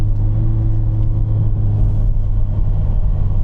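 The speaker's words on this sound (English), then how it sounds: "I see it's been red for a while, so I'm gonna start downshifting" A manual-transmission car slows in heavy traffic while downshifting toward a red light, its engine a loud, steady low rumble heard close up from inside the car, with no voices.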